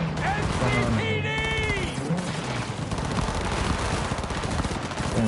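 Rapid automatic gunfire crackles in a busy street shootout in the video game Cyberpunk 2077, a steady dense clatter running throughout beneath game voices and ambient noise.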